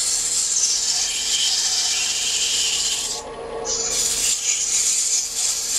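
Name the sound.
sanding wood with 120 grit sandpaper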